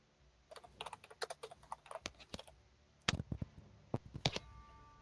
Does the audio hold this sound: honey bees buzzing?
no